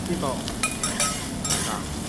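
Chicken steak frying on an oiled teppanyaki griddle, a steady close sizzle with scraping and spatula clicks over about two seconds.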